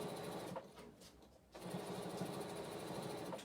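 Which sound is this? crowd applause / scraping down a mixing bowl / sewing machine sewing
sewing machine sewing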